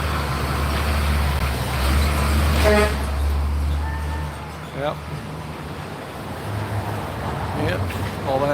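Several car horn toots sound amid busy street traffic, with voices talking over the steady roadway rumble.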